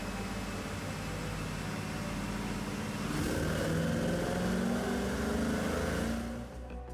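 A 1990 Corvette C4 ZR1 engine revs up partway through, the note rising and holding strong before dropping off near the end, heard close over a hissing background.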